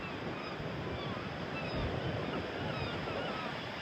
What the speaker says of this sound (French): il y a des jolies petites vagues et c'est plutôt sympa